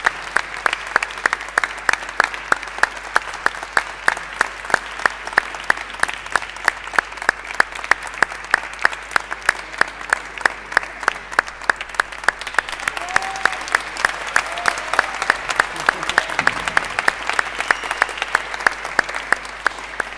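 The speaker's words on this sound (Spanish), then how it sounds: "Yo pediría, por favor, también un gran aplauso a Ángel," Audience at a music and literature event applauding, a long, sustained, even clatter of many hands with a faint rhythmic pulse and some brief voices near the end.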